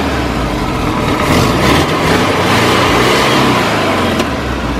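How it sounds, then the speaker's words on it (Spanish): A combi van's carbureted engine after a carburetor cleaning runs steadily and close, with a continuous broadband roar that swells slightly as it accelerates, with no voices over it. "Pero ya el motor se escucha mejor,"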